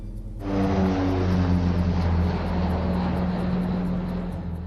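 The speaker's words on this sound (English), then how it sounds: "As the plane breaks out of the clouds, the runway's in sight." A passenger airplane descending on final approach to a runway after breaking out of cloud, its engines giving a steady, loud droning roar with low tonal hum that swells slightly and holds throughout, no talk over it.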